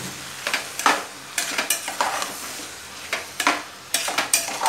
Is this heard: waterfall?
no